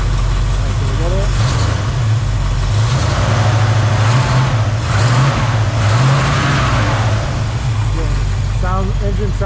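A cold 1967 Pontiac Firebird 400 convertible with a 400 V8 idles with a loud, deep rumble and is revved gently a few times, with rising and falling swells of engine pitch while someone talks over it.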